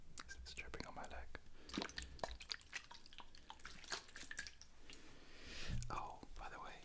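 A skin-tone liquid cosmetic drips onto a leg in a close, quiet ASMR setting. Soft wet drips and tacky liquid sounds come through between gentle whispered talk.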